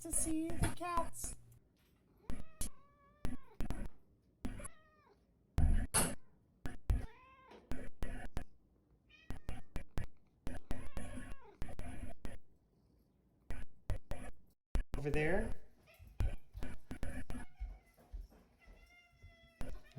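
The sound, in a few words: cats meowing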